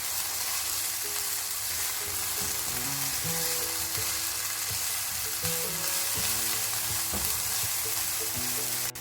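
Red chilies sauté in hot oil in a pan for tandoori chicken cholay, giving a continuous dense sizzle broken by the scrape and clack of a spoon stirring.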